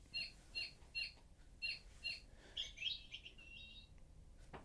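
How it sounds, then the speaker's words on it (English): A bird clock chimes the hour with a recorded bird call: a rhythmic series of short bright chirps, then a longer warbling squawk, close but quiet in a still room. "that's just my bird clock telling me we have passed yet another hour"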